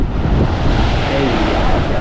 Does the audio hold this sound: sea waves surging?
yes